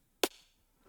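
Ableton DP snare 12, transposed up five with a long decay and reverb, strikes once, a sharp crack followed by a short, fading reverb tail, heard alone.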